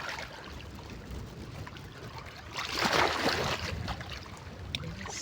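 Strong waves churn and splash on a windy day, a broad rushing wash that swells louder midway and then settles back, steady and fairly close with no talking over it.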